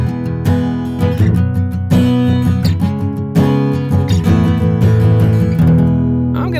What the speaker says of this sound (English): If I record an acoustic guitar that sounds like this